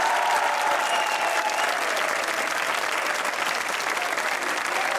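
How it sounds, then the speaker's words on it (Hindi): A studio audience applauds at the start of a comedy show, dense sustained clapping that stays loud and even throughout. "तालियां।"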